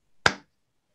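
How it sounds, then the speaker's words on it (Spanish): A single sharp hand clap, close and loud, with a brief ringing decay and no speech. "pues doy una palmada"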